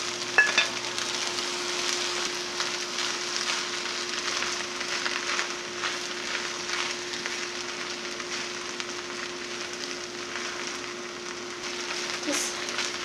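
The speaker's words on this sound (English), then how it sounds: "Now we're going to add in the fish and break it up into the rice." Flaked smoked fish being stirred and broken up into rice in a pan for kedgeree, a soft steady scraping and sizzling texture throughout, close and moderately quiet with no talking over it.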